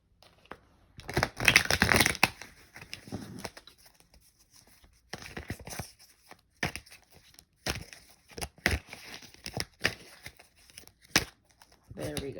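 Cards riffle and slide in repeated bursts of shuffling, crisp and close, separated by short pauses.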